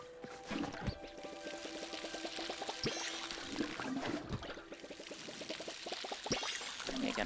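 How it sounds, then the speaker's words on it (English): Water pours in a steady trickling stream as trees are watered in the game Palia, with bright, rapid ticking game effects and soft thumps layered over the quiet flow. "we're going to go around and water our trees."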